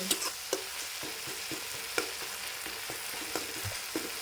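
Tomato egg curry masala stirred in a pan, with repeated scraping clicks of a spoon against metal over a continuous moist sizzle, close and moderately quiet.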